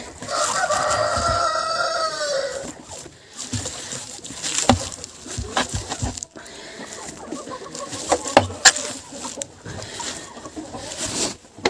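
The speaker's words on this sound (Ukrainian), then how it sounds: "А тут півник чекає." A rooster crows loudly and close at the start, followed by scattered clucking from chickens and some rustling and knocking nearby, on a farm in winter.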